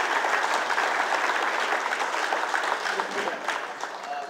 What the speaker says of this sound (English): how about a great round of applause for these guys?